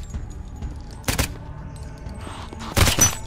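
Two sharp gunshots crack in the zombie shooter game Deathly Stillness, one headshot about a second in and another near the end, separated by quiet ambient game sound.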